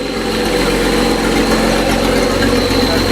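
A Datsun 260Z with an L28 engine idles on a cold day with a loud, steady rumble just before shutdown, with no talk over it.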